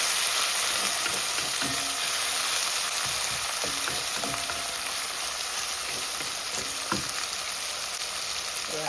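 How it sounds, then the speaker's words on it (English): Onion, tomato, garlic, scallion and pepper sauté in a hot pan for Jamaican ackee and saltfish, giving a steady loud sizzle throughout with occasional soft stirring knocks and no voices. "Allow that to saute a little before we add the salt."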